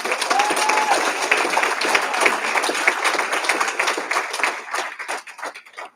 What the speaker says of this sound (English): Can we give Devin another round of applause?